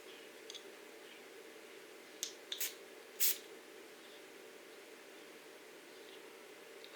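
A Berry Waffle Cone room spray from Bath and Body Works gives two or three short hissing spritzes in quick succession, close and fairly faint, against a quiet room hum.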